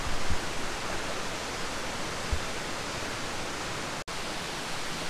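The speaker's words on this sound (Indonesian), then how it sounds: "ternyata di sana pun masih ada air terjun, walaupun gundakannya atau tingginya tidak terlalu tinggi" A small, low waterfall on a clear, cold mountain spring pours in a steady, broad rushing wash that fills the whole stretch, constant and close, with no voices.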